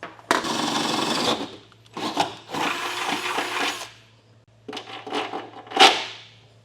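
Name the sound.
drill enlarging holes in truck frame with 9/16 drill bit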